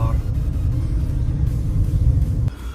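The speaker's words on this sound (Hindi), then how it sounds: "सुबह सुबह का ट्रैफिक भाई" Steady, heavy low rumble of a car rolling through slow morning traffic, heard from inside the vehicle, continuous and close, easing slightly near the end.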